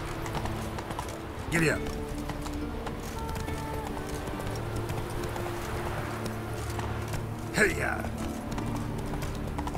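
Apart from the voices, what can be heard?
horse Roach galloping in The Witcher 3 video game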